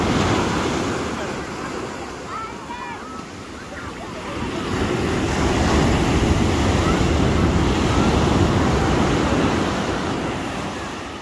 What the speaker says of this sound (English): Lot of big waves here.